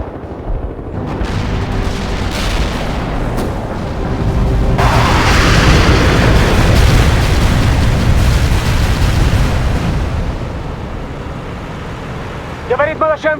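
Artillery barrage in the real-time strategy game World in Conflict, a continuous roar of heavy explosions that swells in the middle and eases off, with radio voices talking over it.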